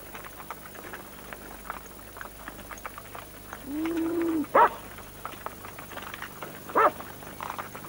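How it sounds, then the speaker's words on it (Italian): A shepherd dog working with cattle gives a drawn-out whine and a couple of short, sharp barks. The sounds are fairly quiet and spaced apart over a soft outdoor background. "A una di queste appartiene Barry, un cane pastore per l'appunto."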